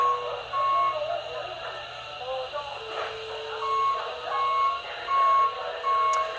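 Reversing beeps from a reach truck in a warehouse safety demo, a steady series of evenly spaced electronic tones sounding over a continuous hum of machinery, with faint background voices.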